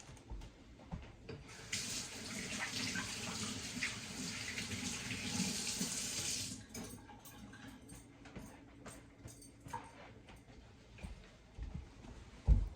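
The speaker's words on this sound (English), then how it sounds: "All right, let me rinse my hands." Hands rinsed under a running kitchen faucet while cooking red beans stew, a bright steady stream of water that swells for several seconds, then gives way to quieter clatter and handling noises.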